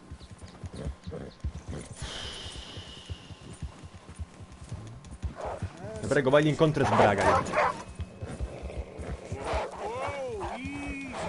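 Horse hooves clip-clop in Red Dead Redemption 2, a steady run of light impacts joined midway by louder animal calls, while someone talks over them.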